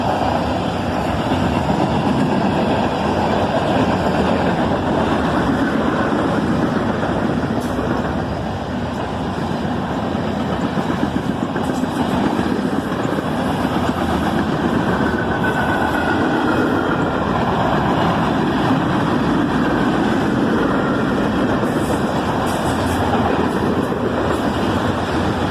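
A pair of CSX ES44AC locomotives hauling a manifest train southbound in Georgia, a loud continuous rumble of engines and rolling freight cars with faint squeals, steady and close for the whole stretch, without speech.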